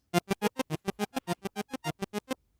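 Synth sound chopped by a Gross Beat quarter swing effect into about fifteen short, evenly spaced stabs, each a bright tonal burst with clean gaps of silence, ending abruptly.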